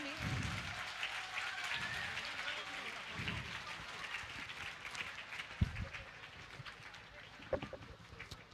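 A school audience in Supaul, Bihar stands to give a welcoming round of applause: dense, steady clapping from a crowd at moderate distance, running throughout with voices mixed in.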